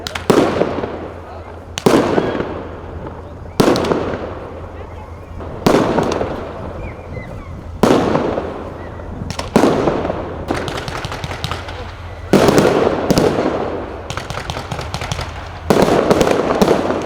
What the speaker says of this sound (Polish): tradycyjnie o godzinie 20 rozpoczęło się Światełko do Nieba, czyli pokaz fajerwerków.